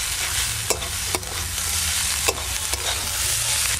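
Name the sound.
mustard greens frying in a pan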